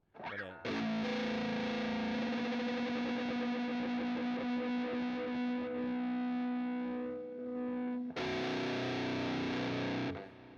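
A sustained distorted electric guitar chord through an amp plugin rings out loud and thick, then a second chord is struck and held, with no talking.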